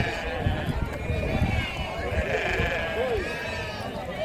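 Sheep and young lambs, two to three months old, bleat now and then over a busy, noisy sheep market background, with people talking and bargaining nearby.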